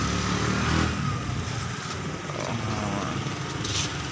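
A motorcycle engine runs steadily at a moderate distance, a continuous rough, broadband drone with little change in pitch, set against outdoor background noise, with no clear revving.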